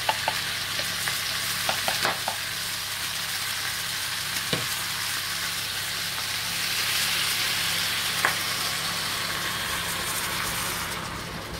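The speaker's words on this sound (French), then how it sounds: "j'ajoute le bouillon bien chaud" Hot broth poured into a pan sizzles and bubbles steadily, with occasional clinks of stirring, close and fairly loud throughout.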